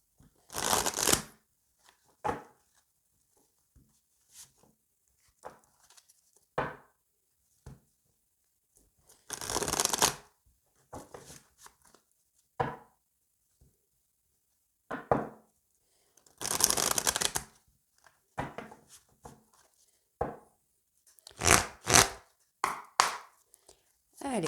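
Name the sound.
tarot cards being shuffled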